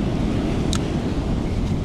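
Surf washing ashore on a cold winter California beach, a continuous low roar of waves mixed with wind buffeting the microphone, with a brief higher scrape near the middle.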